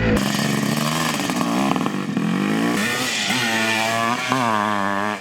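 A Yamaha 465 motocross bike screams close by, its two-stroke engine revving up and down in repeated rising whines, loud and continuous.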